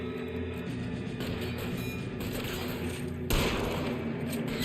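Gunfire in the video game L.A. Noire: a steady, dense wash of shots crackling without pause, with a louder burst near the end.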